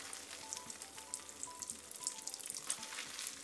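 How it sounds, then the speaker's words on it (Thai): Egg tofu frying in hot oil, a steady dense sizzle with crackling pops throughout, close and continuous with no talking. "เราก็ทอดเต้าหู้ไข่ของเราจนสุกเหลือนะครับ"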